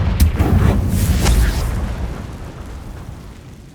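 The Confringo fire spell blasts in Hogwarts Legacy, a loud booming burst with a crackling whoosh that swells over the first second and a half, then rumbles and fades away.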